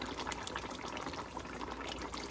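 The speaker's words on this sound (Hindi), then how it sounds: "तो इसमें हम डालेंगे गर्म पानी।" Hot boiled water poured from a kettle into a cooking pot of Delhi nihari, a steady splashing gush of liquid heard alone and close for a couple of seconds.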